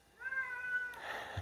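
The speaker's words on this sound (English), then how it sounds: "You may already hear him meowing" A cat meows once, a clear drawn-out call close by, followed by a soft breathy rustle, with no one talking over it.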